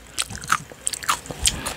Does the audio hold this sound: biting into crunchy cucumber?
yes